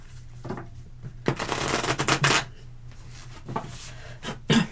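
A deck of tarot cards being shuffled during a live reading, soft papery riffles and rubbing in short bursts, one longer loud flurry in the middle, fairly close with a low hum underneath.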